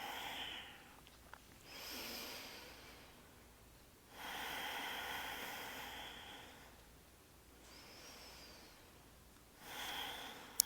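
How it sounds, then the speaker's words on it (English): Slow, deep breaths during a yoga flow, long breathy inhales and exhales in a steady cycle of about four, close and soft with no talking. "Keep coming back to slow, deep breaths"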